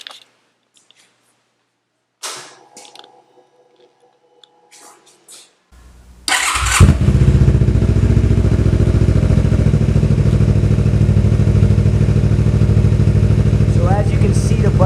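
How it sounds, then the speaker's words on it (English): A 2018 Suzuki GSX250R parallel twin fitted with a Yoshimura Alpha T slip-on exhaust starts up after some quiet handling noises, then settles into a loud, steady, throaty idle that runs on continuously. "This bike has an aftermarket slip-on Yoshimura Alpha T exhaust. Definitely makes the bike sound way better."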